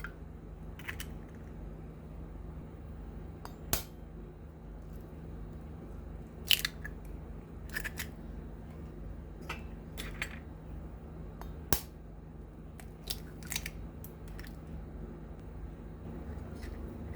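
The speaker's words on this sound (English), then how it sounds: "Let's crack 3 whole eggs." Three whole eggs cracked one after another for a leche flan custard, giving sharp, crunchy shell cracks and brief taps scattered across a quiet kitchen background, with no talking.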